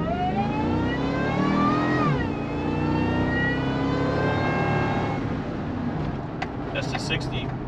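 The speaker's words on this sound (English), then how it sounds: "You hear the little backfire when it shifted in a second." A 2004 Heritage Edition Ford F-150 SVT Lightning pickup accelerates hard toward 60, its engine note climbing, dropping sharply at a gear shift, then pulling steadily again, with a little backfire at the shift and brief pops near the end.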